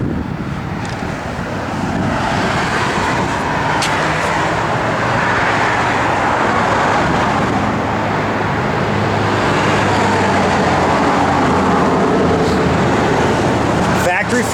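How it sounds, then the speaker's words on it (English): A 1969 Chevrolet Camaro SS drives down the road, its engine and tire noise forming a loud, continuous roar with steady road rumble throughout, while someone talks over it. "The car hits the road great."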